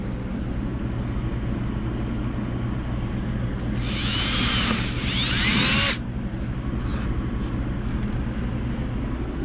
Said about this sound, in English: now drill that hole